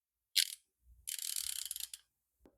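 DieHard 90 tooth ratchet wrench clicking up close: a short burst of fine clicks, a pause, then a longer run of rapid clicks with audible back drag, quiet and isolated.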